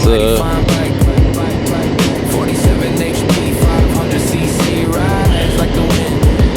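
A Honda NX500 motorbike cruising along a valley road, its engine droning steadily and close up with wind rumble throughout, a few louder surges and passing whooshes, no talking.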